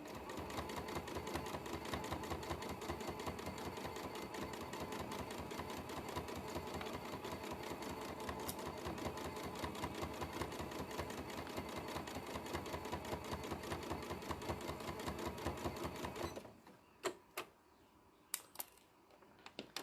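Sewing machine stitches fabric for a book cover in a fast, steady, close mechanical patter that runs for about sixteen seconds, then stops, leaving a few isolated clicks.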